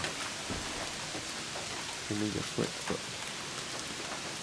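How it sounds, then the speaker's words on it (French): Steady rain falls outdoors as an even, close hiss throughout, with someone speaking French briefly over it midway. "il y a une super pluie là-haut"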